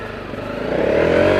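A Honda dual sport motorcycle labours through slippery mud, its engine droning steadily close by and rising slightly in pitch and loudness as it pushes on.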